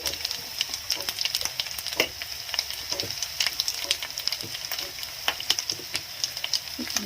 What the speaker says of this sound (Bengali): এটা একটু ভেজে নেব পেঁয়াজের সঙ্গে